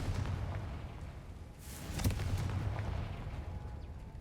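A Confringo fire spell detonates in Hogwarts Legacy, a sharp burst rising out of steady low rumbling ambience near the middle, followed by a continued dull roar.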